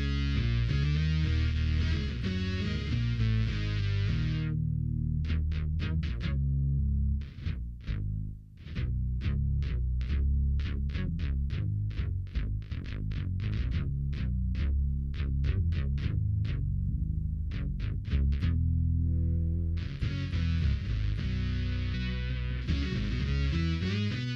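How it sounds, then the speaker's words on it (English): A Moog bass synth patch on an Electro-Harmonix Synth9 pedal plays deep, buzzy notes, first held, then a long run of short staccato stabs, then held notes again. "So now we're going to go to the Moog bass."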